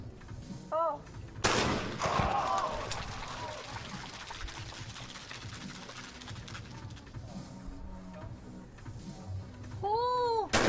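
A single loud shotgun blast cracks out at a women's trap shooting final at China's 2021 National Games, trailing into a long echoing decay and low crowd murmur, with a short vocal call heard before the shot and again near the end.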